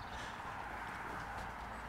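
A horse's hooves clip-clop faintly near a horse riding centre on the Ogmore Downs in Wales. The steps sound distant and soft under a low outdoor hum.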